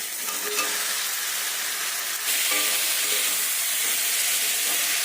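Fried potatoes and soybean chunks sauté with spices in a hot pan, giving a steady, close sizzle with frying hiss throughout and light stirring scrapes, with no talk.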